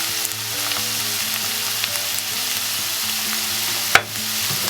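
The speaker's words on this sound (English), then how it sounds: "Give that a good stir" Spices for a spicy Venezuelan empanada filling fry in fat in a pan while being stirred, producing a loud, continuous sizzle with light stirring scrapes and one sharp clack near the end, with no talking.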